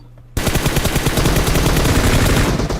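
Rapid automatic gunfire in PUBG Mobile bursts in loud and close after a brief quiet start, then continues as a dense, sustained stream of shots.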